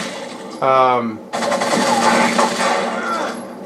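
Rapid gunfire erupts in Rainbow Six Vegas 2, loud and close, after a short tonal game sound, then a dense volley of shots runs on and slowly tapers.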